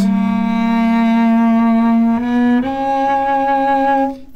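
A cello is bowed away from the bridge on a single sustained note that steps up slightly in pitch twice, giving a smooth, close, fairly soft tone that fades at the end, with no talking.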